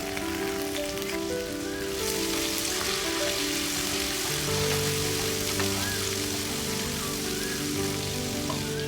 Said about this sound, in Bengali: পেঁয়াজ কুচানোগুলোকে বেশ একটু ভেজে নেব। এখন দিচ্ছি 1 টিস্পুন আদা ও রসুন বাটা।